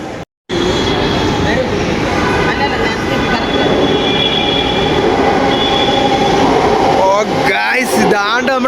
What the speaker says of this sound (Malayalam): ഇതാണ്ട് നമ്മുടെ മെട്രോ സംഭവം സെറ്റപ്പ് വന്നിട്ടുണ്ട് കേട്ടോ